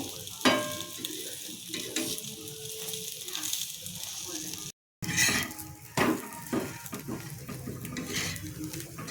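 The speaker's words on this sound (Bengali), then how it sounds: "এখন একটু লাল লাল করে ভেজে নেব" Egg paratha fries in a pan with a loud, crackling sizzle, overlaid by repeated metallic scrapes and clanks of a spatula. A brief silent gap falls midway before the frying resumes.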